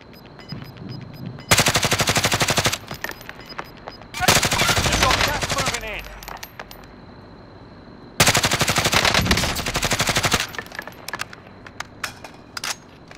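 Small-caliber automatic gunfire in the video game Call of Duty: Modern Warfare, three long rapid bursts of loud, rattling shots separated by quieter gaps with scattered single cracks.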